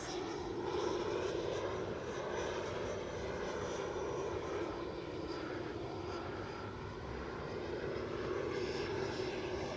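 An FMS Avanti S 90mm RC jet flying a loop overhead, its electric ducted fan producing a steady, fairly distant whine with a gentle rise and fall in loudness.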